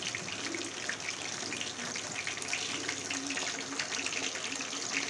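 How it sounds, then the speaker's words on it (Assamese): Paneer pieces coated in cornflour fry in hot oil, a steady, close, hissing sizzle that holds even and unbroken throughout with no voices. "তেলখিনি গৰম হোৱাৰ পিছত আমি অলপ অলপকৈ পনীৰখিনি ফ্ৰাই কৰি ল'ম।"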